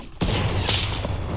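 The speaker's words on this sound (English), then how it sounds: "I'm getting sniped." Heavy gunfire in a squad-based shooter video game, with a sharp loud shot cracking out near the start and further blasts following in quick succession, loud and close.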